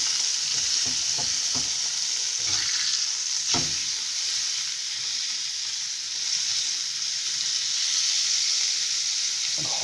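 Steak searing in a pan over high heat, a loud, dense, continuous sizzle with occasional crackles and pops, heard alone and close.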